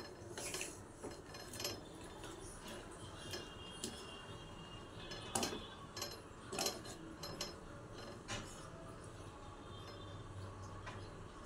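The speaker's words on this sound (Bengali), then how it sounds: "ঢাকনা খুলে তলা থেকে আর একবার মাংসটা নেড়ে দিলাম" Chicken pieces are stirred from the bottom of a pot, with soft metallic scrapes and clinks of a spoon against the vessel over a quiet background hum, a few sharper knocks standing out, no talking.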